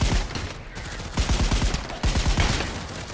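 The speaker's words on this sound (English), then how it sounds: "Today we will be shooting zombies." Rapid bursts of gunfire from a zombie shooting round in the VR game Pavlov, loud and close, with dense repeated shots clustering in quick volleys over a few seconds.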